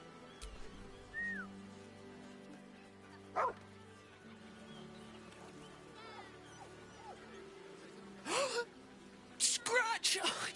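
A dog barking in the video game Baldur's Gate 3, a few short barks and yips scattered between quieter stretches, close by, with people talking throughout.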